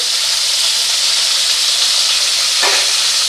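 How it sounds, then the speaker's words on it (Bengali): Rui fish fries in oil over a medium-to-high flame, giving a constant, close, loud sizzle and hiss with one brief crackling flare partway through. "মিডিয়াম টু হাই ফ্লেমে ভাজা হবে"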